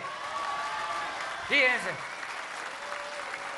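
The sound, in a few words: applause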